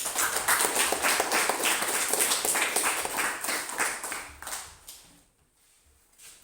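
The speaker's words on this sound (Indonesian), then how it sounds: "tepuk tangan buat Sedi" A classroom group claps for a participant during a coaching session, a brief burst of many hands that fades out after about five seconds into near silence.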